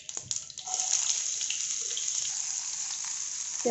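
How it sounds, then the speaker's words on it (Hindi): Mustard seeds and cumin hit hot oil for tempering, giving a loud, steady crackling hiss that swells after a brief start and holds without a break. "तेल जो है वो अच्छे से गर्म हो गया है। अब मैं इसमें ऐड करूँ राई और जीरा।"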